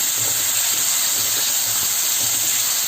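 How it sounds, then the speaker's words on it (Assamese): Chopped tomatoes fry with ginger garlic paste in hot oil, giving a steady loud hissing sizzle with faint low stirring knocks underneath. "এতিয়া ইয়াতে দি দিম মই কাটি লোৱা বিলাহীখিনি"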